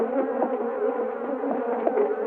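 A dense swarm of Africanized killer bees buzzes loudly and continuously right up close, a thick unbroken drone with slight wavering and no voices.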